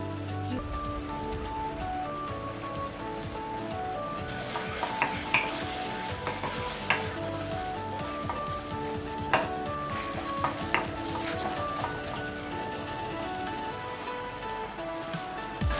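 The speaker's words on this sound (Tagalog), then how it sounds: "gisa po natin yung tuna. Lagyan po natin siya ng paminta" Tuna sautéing with pepper in a hot pan, a steady sizzle and crackle with scattered sharp pops and stirring clinks, close and continuous with no talking.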